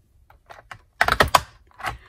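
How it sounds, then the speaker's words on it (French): A paper hole punch used for scrapbook binding clacks in a few sharp, close snaps, faint small clicks first, then a louder cluster of crisp punches and one final snap. "ça sert à faire les trous, pardon, c'est une perforatrice"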